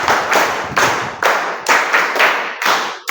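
An audience at a riddle quiz show claps in applause, with several bursts of loud, close hand clapping marked by sharp separate onsets, and no talk over it.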